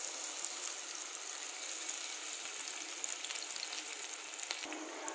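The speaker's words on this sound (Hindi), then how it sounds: "जब हमारा तेल गरम हो जाएगा तब हम एक कलछन भर के बैटर को तेल में डालेंगे" Batter made from whole green moong dal fries in hot oil over a high flame, giving a steady, close, broadband sizzle that holds evenly throughout with faint crackles and no voices.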